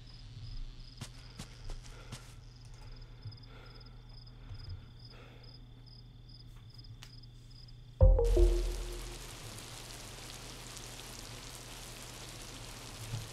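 Rain in the Miasmata game begins abruptly partway through, a sudden loud wash of steady hissing drops that settles into a constant downpour after a quieter stretch of insect chirps and soft footsteps.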